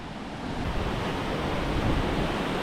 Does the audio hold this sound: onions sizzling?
no